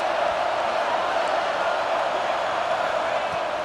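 A packed stadium crowd roars in the EA Sports College Football 26 video game, a dense, steady wall of noise rising to help the defense, loud and continuous with no voices above it.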